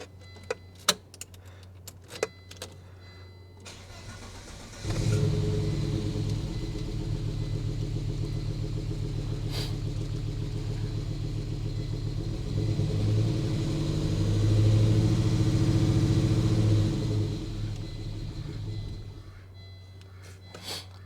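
An old car's engine starts after sitting for 20 years: a few key clicks and ticks, then a sudden crank and catch into a steady low idle rumble that swells slightly before it cuts out, heard close.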